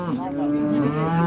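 Cattle at a busy livestock market lowing in a long, drawn-out moo, close and fairly loud over a faint background murmur.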